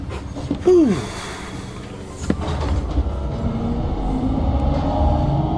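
A train arriving in the video game Alien Isolation: a sharp hiss and screech at the start, then a steady, loud rumbling rail drone that swells and carries on to the end.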